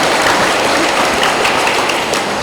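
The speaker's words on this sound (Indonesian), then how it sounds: "Mari kita tepuk tangan untuk Pastor Paroki." Audience applause at a parish youth gathering welcoming the Sumatra Youth Day cross, a dense, steady wash of clapping that stays loud and even throughout with no voices on top.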